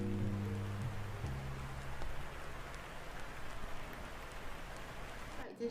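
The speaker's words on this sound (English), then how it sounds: "I'm hearing thunderstorm." Faint, steady rain during a thunderstorm, a soft continuous hiss, with a brief low rumble near the start and no talking.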